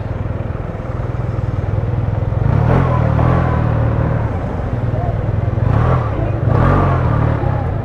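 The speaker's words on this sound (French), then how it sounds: "Bon allez maintenant on va accélérer un petit peu." A 2022 Yamaha TMAX Tech Max scooter engine rumbles steadily, then swells twice in louder accelerating surges, heard close and continuous throughout.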